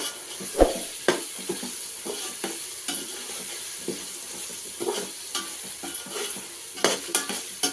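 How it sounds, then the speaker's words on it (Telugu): Ginger paste frying in a pan with a spoon stirring it, heard as a soft sizzle under a steady high hiss, broken by scattered scraping strokes and a few louder clinks. No one talks over it. "ఇది అల్లం పేస్ట్ వేసినాక పచ్చి వాసన పోయేంత వరకు బాగా వేగాలండి"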